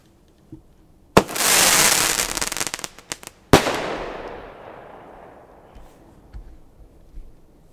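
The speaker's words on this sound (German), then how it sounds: "So, jetzt hier ein schönes großes Bombenrohr. Das Leslie Up and Go. Aus der Royal Class." A large Leslie Up and Go firework tube from the Royal Class bursts loudly, first a sharp launch crack and roaring hiss, then a second heavy bang that rolls off in a long fading echo outdoors.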